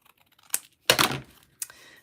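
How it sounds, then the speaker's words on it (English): Scissors snip through paper during a scrapbooking craft project, with a couple of close, crisp, crunchy cuts separated by short pauses. "So I want to cut this side."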